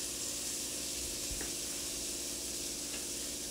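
Steak searing in a pan of melted butter and oil gives a steady, bright sizzle and hiss, close and constant throughout, with a faint knock as the meat settles and no talk over it.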